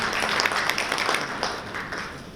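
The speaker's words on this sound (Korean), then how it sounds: "박수 부탁드리겠습니다" Audience applause at a plant and shipbuilding industry conference, a steady wash of many hands clapping at moderate volume for a couple of seconds, heard from within the hall without talk.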